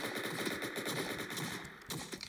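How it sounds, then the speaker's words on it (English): Gunfire in the video game Entry Point, rapid repeated shots in a dense burst, near and loud throughout, with no talking. "just getting a few shots off at no one in particular"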